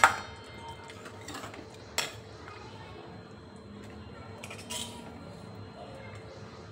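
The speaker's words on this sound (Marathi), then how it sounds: "मी झाकण ठेवून देते याच्यावर 10 मिनिटासाठी" Metal lid set down on a pot of brinjal (eggplant) curry with white sesame and niger seed paste, giving a few sharp clinks spaced apart against a quiet kitchen background.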